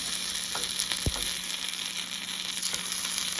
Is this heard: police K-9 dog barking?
no